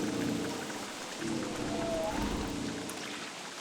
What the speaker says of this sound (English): And that one starts rain, that's what it is, I think.